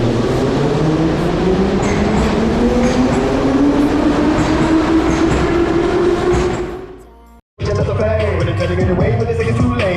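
A Kyiv metro train rumbles loudly into a station, a rising whine building as it slows, then the roar cuts out briefly before station noise resumes.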